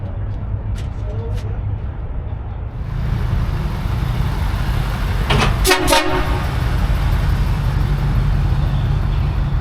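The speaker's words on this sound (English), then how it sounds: "Bloody train horns scares the hell out of me every time." Train horn blasts at a crowded SEMA truck show, a loud tonal honk sounding for about a second over constant crowd noise and rumble.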